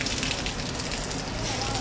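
Heavy rain pours onto a flat rooftop terrace, a dense, even hiss of drops at close range, continuous and loud with no breaks.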